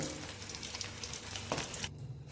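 Eggs fry in a pan with a dense, close, crackling sizzle, one sharper scrape near the end, and then a sudden cut to near quiet.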